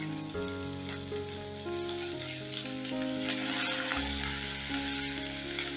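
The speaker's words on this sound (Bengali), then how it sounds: "পেঁয়াজটা একটু নাড়াচাড়া করে নিচ্ছি এক মিনিটের মতো নাড়াচাড়া করে নিচ্ছি" Two large chopped onions sizzle and crackle as they are stirred in hot oil with tempering spices for a masoor dal egg curry, a steady close frying hiss under soft background music.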